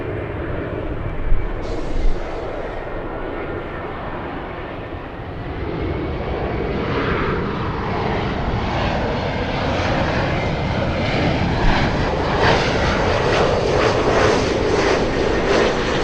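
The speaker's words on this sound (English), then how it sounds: "we have JetBlue lifting off" A JetBlue airliner lifting off from LAX for JFK makes a loud, sustained jet roar that rises and brightens toward the end, with no talk over it.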